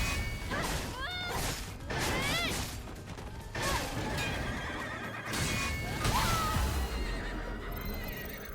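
In the video game Stellar Blade, a horse neighs repeatedly, three or four loud, shrill whinnies separated by gaps, mixed with clattering hooves, thuds and other busy game sounds.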